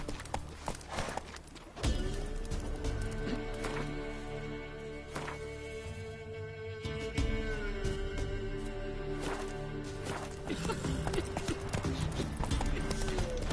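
Hooves clip-clop at a steady walking rhythm as a horse moves through the Witcher 3 game world, moderately loud, with game music and sounds layered around it and brief speech at points.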